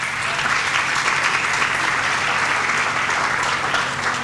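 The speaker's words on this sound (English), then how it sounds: "Give your parents an applause, please" Steady, loud applause from an audience at a high school senior awards night, a continuous wash of clapping honoring parents, with no voices over it.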